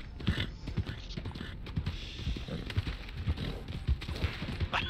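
Horse hooves clip-clop at a steady trotting rhythm in the Western game Red Dead Redemption 2, with a faint whinny, close and fairly loud over a busy background.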